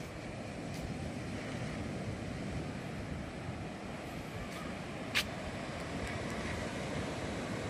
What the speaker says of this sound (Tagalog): Naririnig nyo ba kailan yung tunog ng hampas ng alon?